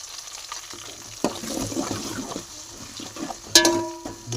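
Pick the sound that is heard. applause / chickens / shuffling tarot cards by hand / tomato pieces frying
tomato pieces frying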